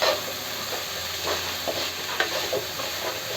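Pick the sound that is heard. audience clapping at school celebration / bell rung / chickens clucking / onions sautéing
onions sautéing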